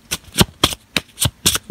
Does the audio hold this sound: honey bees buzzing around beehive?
no